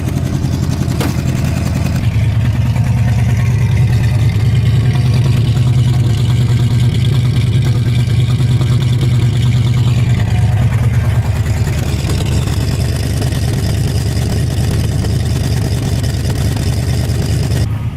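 A car engine idles roughly through a bad, leaking muffler, a loud, steady low rumble that holds for the whole stretch, with a slight shift in tone partway through.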